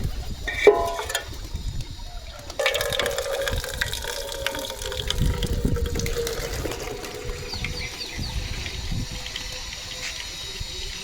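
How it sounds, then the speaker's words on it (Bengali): Water poured into a bowl for pets, a steady gushing and trickling stream that continues for several seconds at close range, with some background noise. "এখন খাবার দেবো না, একটু জল দেবো ওদেরকে, জলটা দিয়ে দাও।"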